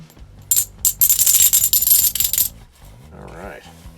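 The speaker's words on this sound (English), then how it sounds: "now we're on to our clink test." Half dollar coins dropped for a clink test, a quick run of bright metallic rings and clinks close by for about two seconds, followed by a quieter tail.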